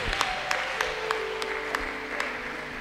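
A church congregation claps together in steady rhythmic beats, roughly one every third of a second, with faint background music or organ tones underneath and no speech.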